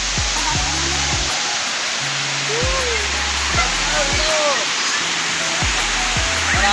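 Sangbay Falls, a waterfall in Upper San Agustin, Bauang, La Union, gives a loud steady broadband rush of falling water with a low rhythmic hum and faint chirps under it.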